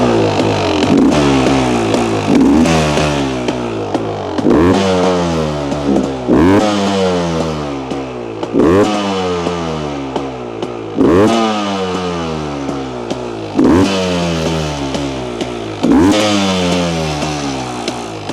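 Beta Xtrainer 300 two-stroke dirt bike engine running loud and close, revved repeatedly in rising and falling bursts with a raspy, crackling exhaust note between throttle blips.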